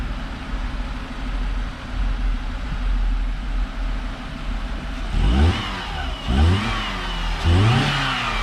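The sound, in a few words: 2001 Dodge Neon engine revving on a dyno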